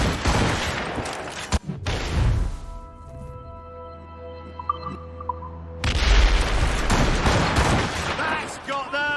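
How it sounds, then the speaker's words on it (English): Ship cannons firing in the naval combat of the video game Assassin's Creed Rogue, a loud burst of booming volleys at the start and again near the end, with rumbling sea battle noise and a sustained hum between. "Fire! Fire, Captain! Enemies firing!"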